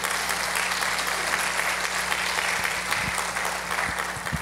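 Congregation applauding during a women's church service, a sustained even wash of clapping lasting several seconds over a low steady hum, with a few louder thumps near the end.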